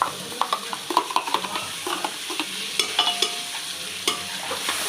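Crushed onion and chili fry in hot oil, a constant crackling sizzle punctuated by quick knocks and scrapes of a spoon stirring against the pan, close and fairly loud.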